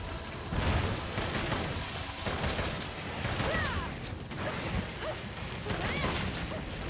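Explosions from a Teostra fight in Monster Hunter Rise: Sunbreak crackle and thump repeatedly in a dense, continuous barrage, with mechanical clatter and game noise layered throughout.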